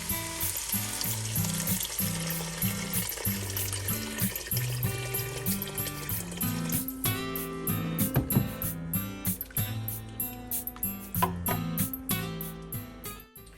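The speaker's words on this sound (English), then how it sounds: "And now I'm going to add the water." Water is poured into a hot cooking pan to deglaze it, setting off a loud, continuous sizzle and bubbling close by, with music playing underneath.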